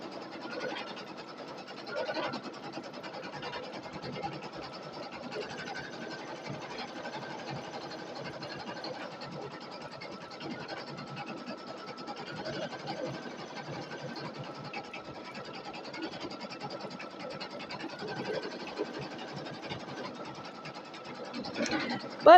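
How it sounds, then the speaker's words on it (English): An embroidery sewing machine runs steadily while stitching freestanding lace with a new needle. The hum and rapid stitching rhythm are constant and moderately loud for the whole stretch, with no voices. "But a new needle in it is stitching just fine now."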